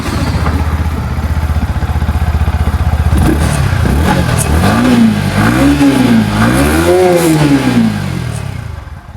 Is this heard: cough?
no